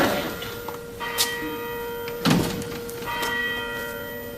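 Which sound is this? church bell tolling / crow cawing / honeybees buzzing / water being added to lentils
church bell tolling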